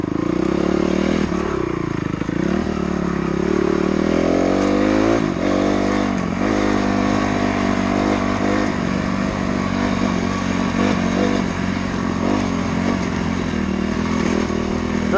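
A dirt bike engine drones steadily up close while riding a trail, its pitch sweeping up and down with throttle changes, loud and continuous with faint rattles beneath.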